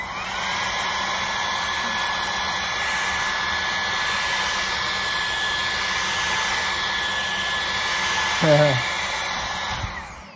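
LEVOIT cordless vacuum cleaner running steadily on turbo boost, a loud constant high whine and airflow roar that briefly rises in pitch before switching off near the end.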